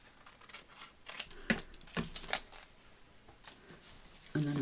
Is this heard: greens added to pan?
no